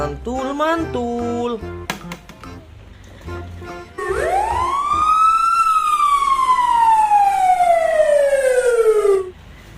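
An electronic toy fire truck siren wails in a long rising-then-falling sweep, loud and close, after a few short toy beeps and tones.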